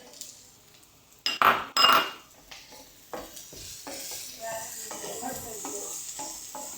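Capsicum drops into a hot frying pan with a loud burst of sizzle and metallic clinks, followed by quieter stirring scrapes and a steady fry.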